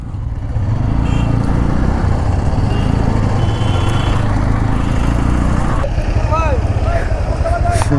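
Several Bajaj N160 and N150 motorcycles rev and ride off together at a crowded relaunch bike rally, a loud continuous engine drone throughout with crowd noise and voices over it.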